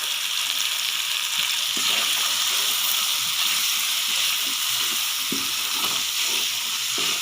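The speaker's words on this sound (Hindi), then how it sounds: "मगज़ को इतनी अच्छी तरह से इसको भूनेंगे कि इसकी स्मेल ख़त्म हो जाए।" Magaz (goat brain) masala sizzles and hisses steadily in a hot pan, with occasional soft stirring scrapes and no talking.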